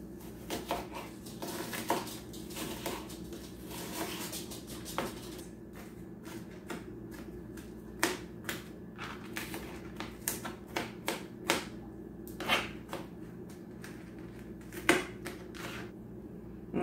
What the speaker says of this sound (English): So you just want to cut this onion up nice.